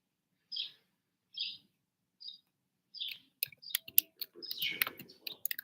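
Several separate high chirps from a bird, then a burst of rapid clicking and rustling sounds crowds in during the final seconds.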